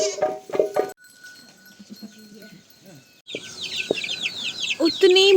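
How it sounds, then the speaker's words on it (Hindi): Chickens on a farm cluck and call close by, with goats or sheep among the livestock and a voice talking over part of the scene, the clucking loudest and busiest toward the end. "उतनी मुर्गी थी, अब सिर्फ 10 मुर्गियाँ बची हैं।"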